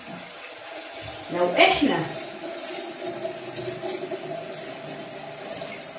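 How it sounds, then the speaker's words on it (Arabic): Hot water from a home water heater pours into a container during a facial treatment, a brief splashing burst rising and fading over about a second, then a soft steady trickle under a person talking nearby. "هحط مية سخنة، سخنة من السخان بتاع البيت عادي جدا"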